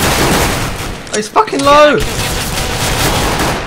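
A burst of AK rifle fire in Counter-Strike: Global Offensive, a dense crackling volley running under loud excited shouting from players, with a brief voiced exclamation in the middle.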